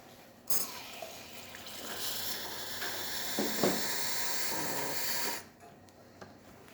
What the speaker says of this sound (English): excellent shower flow coming out from the group head